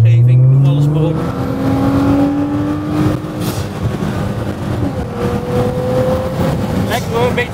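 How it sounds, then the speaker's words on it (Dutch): Car driving on a road, engine note rising through the gears as it accelerates, then a steady continuous drone with road noise throughout, close and fairly loud. "Lekker hoor, een beetje auto rijden."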